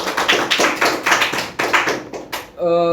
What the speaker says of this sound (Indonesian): tepuk tangan dong buat Mbak Sukma gitu kan.